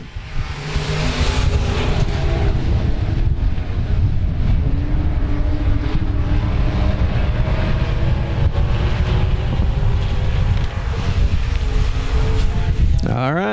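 Race cars speed around the South Texas Speedway track in a continuous loud engine roar mixed with wind buffeting, while an announcer talks over the noise throughout.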